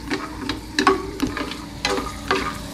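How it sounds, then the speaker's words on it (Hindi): Almonds deep-fry in ghee, giving a steady bubbling sizzle with soft stirring clicks and scrapes at regular intervals, close and moderately loud with no voices. "मम्मी ने इनको डीप फ्राई किया है"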